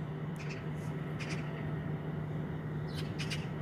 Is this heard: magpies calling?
yes